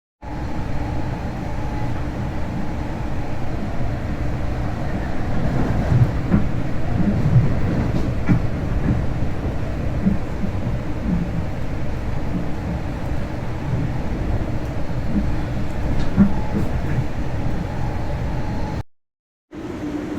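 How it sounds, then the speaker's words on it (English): Another train rolls past during a rail journey, heard as a loud, steady rumble and clatter that lasts throughout with no voices, cutting out briefly near the end. "comes the other train is going by here"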